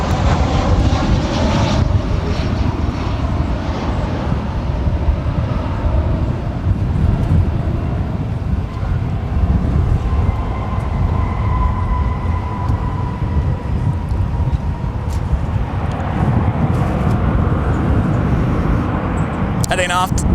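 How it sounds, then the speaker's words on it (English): An American Airlines A319 jet taxis toward runway 18 Left at Dallas-Fort Worth International Airport, its engines giving off a loud, continuous roar that fills the whole stretch and holds steady in level. "American Airlines Flight 2128, A319, making our way over to 18 left."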